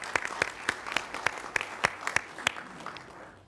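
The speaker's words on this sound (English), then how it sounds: "And yeah, we can clap." A small audience claps at a county zoning hearing, sparse separate hand claps rising to a thin, uneven patter before tapering off, fairly close and with no talking over it.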